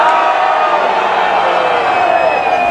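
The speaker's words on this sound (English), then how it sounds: "Give me your butchest, most testosterone-filled cheer possible." A large crowd at Leeds Gay Pride lets out a loud, sustained cheer, a dense wash of shouting and whooping voices that holds steady for the whole moment without dropping off.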